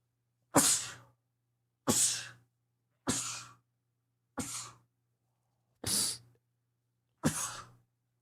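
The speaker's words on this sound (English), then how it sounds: "Nothing like being live and just sneezing." Six sharp sneezes in a row, each a sudden loud burst followed by a short fade, spaced about a second apart against near silence.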